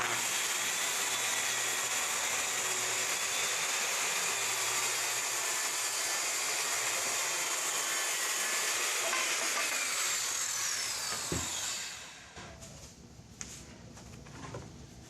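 A circular saw rips wood along a jig: a loud, close, continuous cutting roar holds steady for about eleven seconds, then cuts off abruptly and leaves only faint handling noise.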